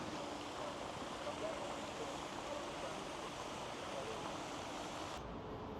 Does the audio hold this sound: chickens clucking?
no